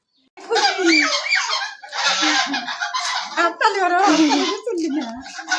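A flock of ducks quacks loudly and continuously at close range as they are herded home into their shed, with overlapping nasal calls.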